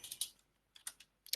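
Quiet keystrokes on a computer keyboard, a few short clusters of clicks separated by brief pauses, close but faint, with no one talking.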